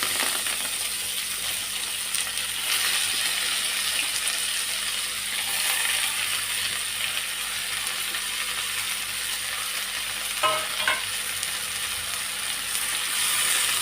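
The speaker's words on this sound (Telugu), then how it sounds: "ఇది వేసుకొని మొత్తం ఇది బాగా మెత్తగా మగ్గేదాకా ఫ్రై చేసుకోవాలి" Chopped sorrel leaves fry in hot oil in a kadai, giving a soft, steady hiss close by, with a brief metallic clink of a spoon near the end.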